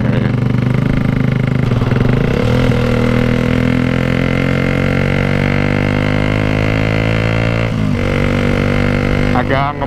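A 150cc motorcycle fitted with a loud aftermarket exhaust revs steadily and throatily up close for about ten seconds, its drone briefly dipping twice, with someone talking over it.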